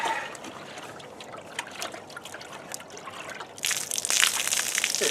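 Water trickles and splashes onto the deck-to-hull seal of a boat during a leak test, a soft steady dribble that swells abruptly into a louder, fuller gush partway through.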